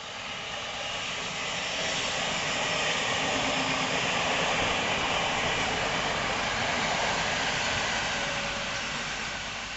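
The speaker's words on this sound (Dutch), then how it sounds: "Kijk, treintje toetoet." A train rumbles past steadily in outdoor surroundings, a broad continuous roar that swells to its loudest at mid-clip and then eases slightly, with no voices heard.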